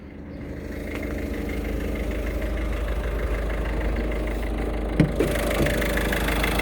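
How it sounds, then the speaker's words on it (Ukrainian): A steady Peugeot Expert van diesel engine idling close by, a constant low rumble with a faint rhythmic knock and a couple of brief clicks near the end. "Дам послухати, як працює двигун."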